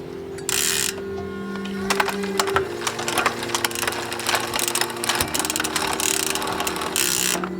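Bolt clamping the derailleur cable being tightened on a Norco mountain bike, a close series of sharp ratcheting clicks from a hand tool in quick irregular bursts, with some mechanical rattling between.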